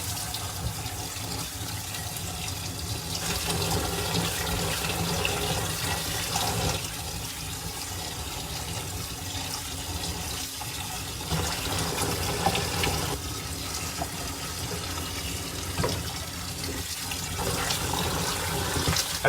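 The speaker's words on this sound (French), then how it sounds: "On rince vraiment bien à l'eau froide." Cold tap water runs steadily over cooked pasta being rinsed in a kitchen, a continuous close rushing splash with slight shifts as the pasta is moved under the stream.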